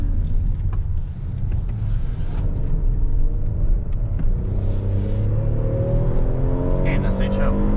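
Engine of a 2022 Hyundai Palisade Calligraphy heard from inside while driving, a steady low rumble with a tone that rises gradually as it accelerates, running continuously under conversation.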